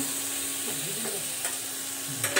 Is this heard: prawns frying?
yes